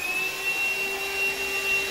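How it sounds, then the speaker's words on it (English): A Morphy Richards SuperVac 2-in-1 cordless, bagless vacuum cleaner runs with a steady, close, high-pitched motor whine and airy rush, holding constant throughout with no talking. "this is the Morphy Richards 2-in-1 Supervac"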